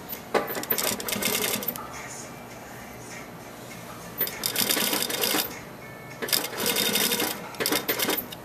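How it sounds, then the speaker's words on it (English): A sewing machine stitches rib knit into a V neck in three bursts of rapid mechanical whirring, steady and close, with quiet pauses between runs. "And we're just sewing from here to that center."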